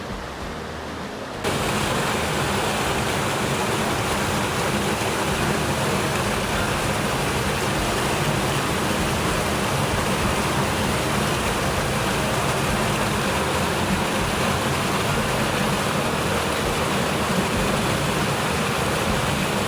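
Icy cold mountain stream water rushing steadily in the Lauterbrunnen valley of Switzerland, a constant broad hiss of flowing water that starts abruptly and continues evenly, with no voices.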